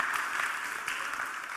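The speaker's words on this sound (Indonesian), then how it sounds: "Tepuk tangan bagi Tuhan." Applause from a church congregation fills the room, a dense, steady wash of many hands clapping at once, loud and close, with no voices over it.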